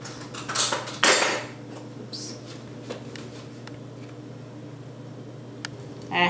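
A utensil stirs ground Himalayan salt into food in a dish, giving a few clinking, scraping bursts at first and then softer, sparse taps over a steady low hum.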